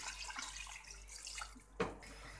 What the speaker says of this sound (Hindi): और इसमें मैं पानी शामिल कर रही हूँ